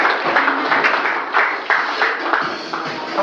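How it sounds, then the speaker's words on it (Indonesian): Audience at a product presentation claps for the MC, a fairly loud, close burst of applause with audible individual hand claps in an uneven rhythm, continuing for several seconds. "Berikan tepukan yang luar biasa untuk MC kita, tepukan yang luar biasa."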